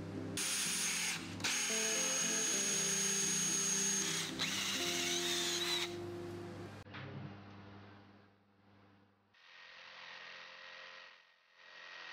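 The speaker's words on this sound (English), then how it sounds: "Drill then make hole." A power drill whines loudly and steadily for several seconds, stops briefly, runs again, then lighter drilling bursts follow with pauses between them.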